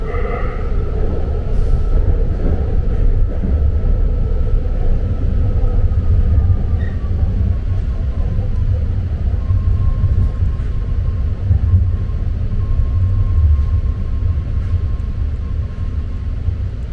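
A BART train in the Bay Area running between stations, a loud steady rumble of wheels and car body with a faint high whine drifting above it, continuous and close.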